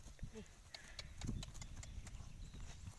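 A horse being ridden walks along, its hooves clip-clopping in a steady, close rhythm while people talk over the hoofbeats.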